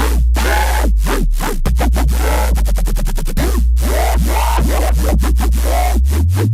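A loud, buzzy ring-modulated synth bass with a vowel-like, talking quality, sweeping through wah-style formant shifts in a continuous rhythmic pattern.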